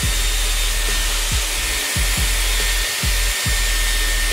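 Continuous loud whoosh of a Dyson Airwrap hair styler blowing air while curling hair, steady throughout with slight rhythmic fluttering underneath.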